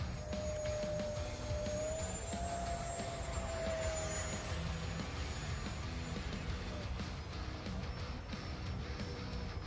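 An FMS 64mm Dassault Rafale RC jet taking off at a field, its electric ducted fan giving a steady loud whine and rushing roar that rises slightly in pitch and holds throughout.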